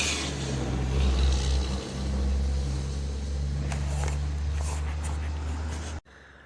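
A steady low engine drone of passing US highway traffic hums from nearby at the edge of town, with a vehicle rushing by and swelling louder before the sound cuts out.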